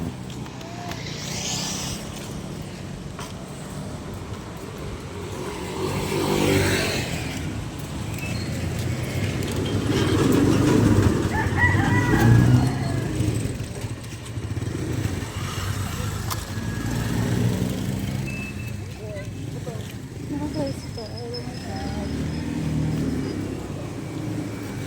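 A passenger tricycle, a motorcycle with a sidecar, runs its engine on a hot midday ride, a steady low drone that swells and fades as it travels, with faint voices now and then underneath.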